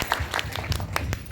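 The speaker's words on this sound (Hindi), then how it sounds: "इसलिए तो तालियां थोड़ा जोर से बजनी चाहिए" Applause from guests at a Buddhist-rite wedding ceremony, a short burst of scattered, uneven claps with a low background murmur underneath.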